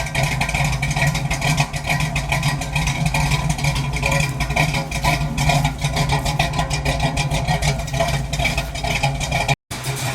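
A 1974 Ford Bronco engine runs close by with a loud, steady, throbbing idle and a slightly lumpy rhythm, broken by one brief dropout near the end.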